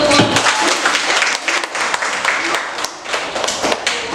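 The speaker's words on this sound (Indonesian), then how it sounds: "Beri aplaus dulu untuk" A classroom audience applauds a presenting student group at a university. The clapping is loud and dense, close by, and keeps going for the whole span with some thumps mixed in.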